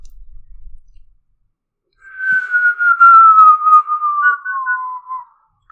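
After a brief rumble and silence, a single long whistle glides slowly downward in pitch, clear and close, lasting about three seconds.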